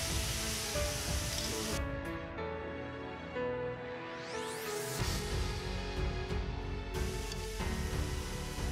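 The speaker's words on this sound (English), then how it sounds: "wait for the oil to start shimmering, and then add the steaks" Steaks searing in shimmering oil in a pan, a steady loud broadband sizzle that stays continuous throughout with brief shifts in intensity, no talk.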